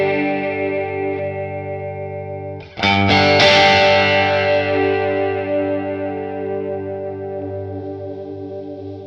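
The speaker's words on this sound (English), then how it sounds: "We're in chorus mode at the moment, and what I will do is I'll just change the voice so you can have a listen to how that sounds." An electric guitar runs through a Red Witch Empress Deus chorus pedal in chorus mode: a ringing, shimmering sustained chord fades, then a fresh strum swells loud and decays slowly with a wavering, doubled chorus texture.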